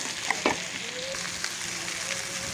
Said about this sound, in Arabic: سامعين الطشطشه؟